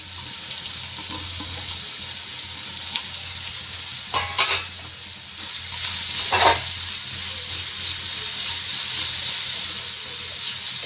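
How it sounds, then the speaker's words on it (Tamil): Grated carrot sautés in a hot pan with a steady hiss and sizzle, broken by a few scraping stirs near the middle. The sizzle grows a little louder toward the end, with no speech. "கேரட் சேர்த்துட்டு நல்லா வதக்கி விட்டுறலாம்."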